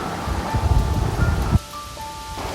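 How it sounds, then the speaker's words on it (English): Soft, constant rain falls on a quiet morning in Hoi An, a steady close hiss that grows rougher and louder before dropping abruptly to a thinner patter with faint tones. "The rain is soft and constant, bringing out colors, calming the air."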